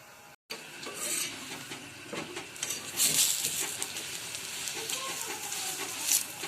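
Aloo paratha fries in oil in a pan with a loud, close, continuous sizzle, following a brief moment of silence at the start, plus a few sharper spits and pan clatters.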